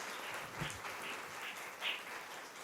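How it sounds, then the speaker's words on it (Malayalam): Onam celebration at a care home in Kerala, with a crowd clapping to welcome the director onto the stage: faint, fairly distant applause holding steady for a few seconds. "സ്നേഹക്കൂടിന്റെ ഡയറക്ടർ നിഷ മാമിനെ വലിയൊരു കയ്യടിയോടുകൂടി ഓണ സന്ദേശത്തിനായി വേദിയിലേക്ക് ക്ഷണിക്കാം"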